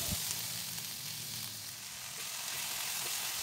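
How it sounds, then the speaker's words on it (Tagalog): Tomatoes sauté in a pan with ground black pepper while an eggplant dish cooks, giving a close, continuous hissing sizzle with faint stirring scrapes. "At ipagpatuloy ang paggisa hanggang sa lumambot ang kamatis."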